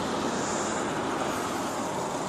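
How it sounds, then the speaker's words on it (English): Road traffic passes by as a steady broadband rush that holds a constant level for about two seconds. "Damn traffic going past."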